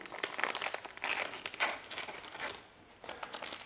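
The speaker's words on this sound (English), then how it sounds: "now we'll put it back into the packaging" Plastic packaging crinkles and rustles as a severed finger is slipped back inside it, in close, busy bursts of crackling that ease briefly near the end and then pick up again.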